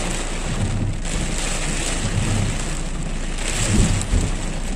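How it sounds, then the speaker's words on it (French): Thunderstorm over open land, steady heavy rain hissing throughout with low thunder rumbling near the start and again, louder, toward the end. "Oh, ça tonne, là."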